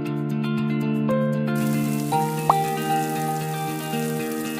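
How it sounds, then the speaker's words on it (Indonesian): Soft patter of rain falls steadily behind sustained musical tones, with a brief droplet-like plink partway through. "Hujan pun turun."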